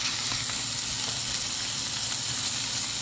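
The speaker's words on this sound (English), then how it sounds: "now I'll add the tomato and the chili and let it cook for a while as well" Minced turkey with tomato and chili cooking in a pan over medium-high heat, a loud, dense, continuous sizzle and hiss that holds steady without a break.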